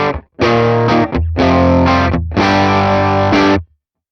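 A driven electric guitar rings out through a Morgan amp with no overdrive pedal engaged, playing three sustained chord phrases separated by brief gaps, close and loud.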